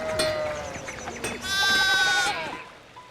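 Goat bleating in the video game Pentiment, a wavering nasal cry repeated a few times over about three seconds, fairly close and loud, with game ambience behind it.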